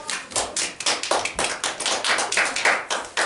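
Children at a Bible teaching session clap for a boy, a small group's uneven, fairly close claps in a loose rhythm of distinct individual strikes, with no talking.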